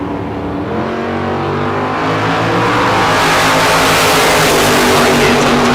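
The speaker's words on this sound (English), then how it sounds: "Mark Kidd out of Twin Falls. Kidd Performance and Dyno. That orange 67 Chevy 2" An orange 1967 Chevy II drag race car roars loud and close at a bracket race, its engine note building into a dense, sustained, rising blast of exhaust noise.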